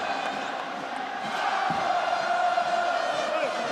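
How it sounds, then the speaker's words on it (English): Home crowd at a New Zealand U20 versus France U20 rugby match starting to sing, a broad sustained wash of many voices that swells louder partway through and holds steady. "The home crowd, they got to sniff, they got the momentum, they're starting to sing"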